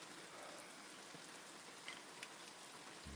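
Steady, dense rain pours onto an awning during a thunderstorm, a continuous close hiss with a few sharper drop hits and no voices.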